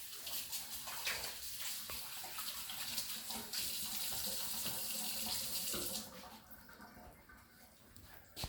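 Kitchen tap water runs steadily as hands are washed under it, a continuous close splashing hiss that cuts off abruptly near the end, leaving quiet room tone.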